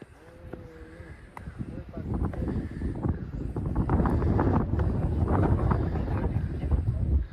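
Gusty cold wind at a high pasture in Rukum, Nepal buffets the microphone with a low rumbling roar that builds and stays strong, while people talk underneath and an animal calls faintly early on.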